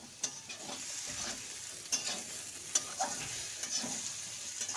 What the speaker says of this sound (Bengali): টমেটোটাকে দিয়ে কিন্তু ভালো করে একটু কষিয়ে নিচ্ছি।